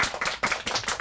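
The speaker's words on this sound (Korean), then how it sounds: "박수 한번 칠까요?" Audience clapping at a children's book talk in Korea, a short burst of many hands with dense, fairly steady claps and no voices.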